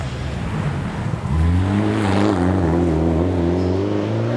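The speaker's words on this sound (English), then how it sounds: "This sounds like an Evo John Kemp on the way down the hill." A Mitsubishi Evolution rally car on a rally stage, approaching and roaring past downhill, its engine note rising loud and close with strong harmonic whine, no voices.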